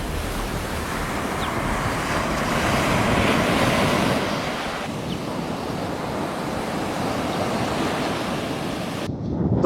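Ocean waves along the Japanese coast, a loud continuous wash of surf that swells and eases under steady wind buffeting the microphone, cutting off abruptly at the end.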